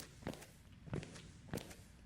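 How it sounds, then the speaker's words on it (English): Footsteps tick in the horror video game Goodnight Pan Pan, three soft evenly spaced steps, faint and close, with no talking over them. "That like ticking noise, which I think is footsteps, but maybe I'm wrong."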